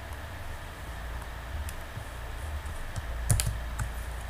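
Quiet keystrokes on a computer keyboard as ctrl and slash are pressed: a few scattered soft taps with one sharper cluster of clicks near the end, over faint background hiss.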